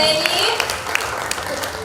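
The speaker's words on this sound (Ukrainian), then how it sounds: "Ваші бурхливі оплески" An audience at a live folk-theatre show applauding, a dense patter of clapping with a few sharper claps standing out, mixed with voices in the room.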